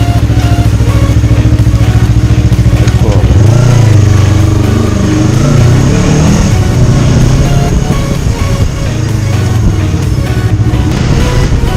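A Yamaha R3 sport motorcycle engine runs loud and close throughout, its pitch rising and falling as the rider revs and shifts while moving along a road in Nepal.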